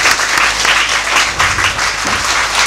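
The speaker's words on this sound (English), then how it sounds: "let's have a big round of applause for all my children" Children in an audience applaud after a storytelling performance about langurs. The clapping is dense and loud, sustained for the whole stretch without a break, and no voices come through.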